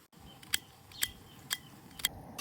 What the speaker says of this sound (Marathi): मी कांदा कापून घेते